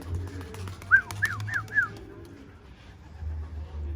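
Pigeons near a roof give a short run of four quick, fairly faint calls over a steady low background hum, followed by quieter ambience.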